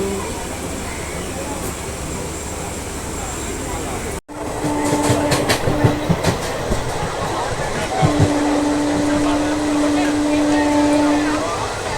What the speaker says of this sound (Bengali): ট্রেন ছাড়ছে এবং এটা ছেড়ে দিল